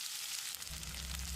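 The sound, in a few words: sliced onions sizzling in oil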